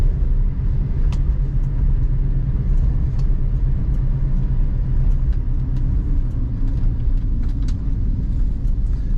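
A 1968 Ford Mustang Coupe on the move, heard from inside as a continuous loud low engine rumble with road noise and small rattles throughout.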